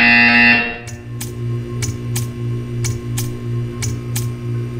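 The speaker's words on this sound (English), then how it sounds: "You will hear a buzzer." In Portal 2, a loud electronic tone cuts off and gives way to a rhythmic buzzer pulsing roughly twice per second, each pulse with a sharp click, over a low steady hum.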